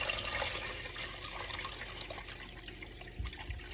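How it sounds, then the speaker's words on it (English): Bouillon broth pours into a Tupperware pressure cooker in a kitchen, a steady continuous splashing, liquid rush lasting a few seconds, close and moderately loud, with no talking. "So I'm going to pour some of this in the pressure cooker."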